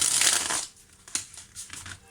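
Thick tarot cards riffle and slide in a dense burst of shuffling for about half a second, then quieter scattered taps and flicks of card handling follow close by.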